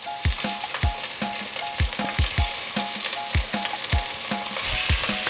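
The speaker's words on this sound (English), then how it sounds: "So that sizzling is not hot enough" Chicken pieces frying in an uncrowded pan for a creamy rosemary and mustard chicken dish, with a steady close sizzle broken by repeated scraping stir strokes and soft thumps.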